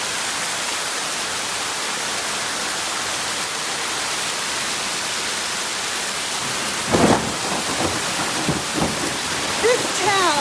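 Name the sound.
torrential rain pouring in an Italian village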